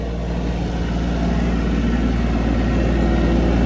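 An Iseki TA 235 Japanese tractor engine running steadily close by, a loud, even diesel rumble with a rhythmic low throb that holds constant throughout, with no talking.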